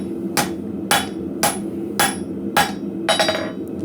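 A blacksmith hammers steel on an anvil while working a slot punch, six sharp ringing blows spaced about half a second apart, close and clear with no talk.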